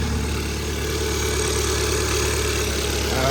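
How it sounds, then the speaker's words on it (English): A Hyundai car engine with a blown engine and check engine light on idles steadily at close range, a constant low rumble with a faint regular ticking throughout. "The engine is running."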